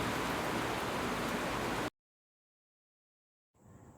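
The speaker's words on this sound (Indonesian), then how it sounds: "hujan deras selalu mengiringi perjalanan kami." Heavy rain pours during a road trip through Central Java around Wonosobo, a dense, steady, loud hiss that cuts off abruptly after about two seconds into silence, with no talking.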